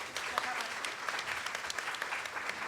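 An audience at a talk on supporting autistic girls with friendships applauds a speaker, steady clapping from many hands filling the room for a few seconds.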